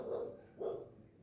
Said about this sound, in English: Sorry about that dog noise.